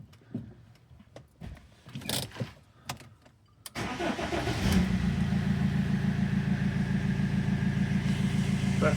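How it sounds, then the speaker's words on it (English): A car's engine, just after a check-engine fault code was cleared, cranks up after a few clicks and knocks, then settles into a steady, close, even idle that runs to the end. "let's see if we can start car"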